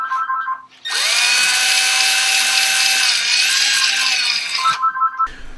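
A power drill with a drill bit bores into a Hobie Outback kayak hull during a Torqeedo Ultralight motor installation, a loud, close, steady high-pitched whine lasting about four seconds before spinning down.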